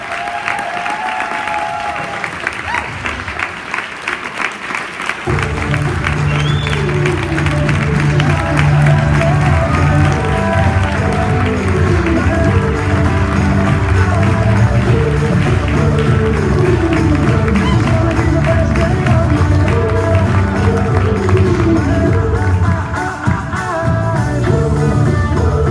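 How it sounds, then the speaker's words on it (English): A live audience at a talk bursts into loud, sustained applause with some cheering as a speaker is introduced. The clapping swells after a few seconds and stays dense and steady under music that plays in the room. "Stand up and let's hear it for Michael Liberman."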